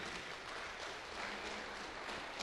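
A church congregation claps their hands together in steady, dense applause that fills the space evenly, with no voices rising above it.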